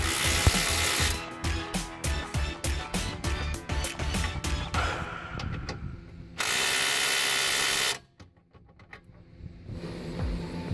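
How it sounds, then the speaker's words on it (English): Ratchet wrench bolting the rear lower control arms of a 2007 Jeep Compass, rapid close clicking strokes in bursts with pauses between, interrupted by a steady mechanical whir and quieter clicks at the end. "then you can start bolting together the lower control arms"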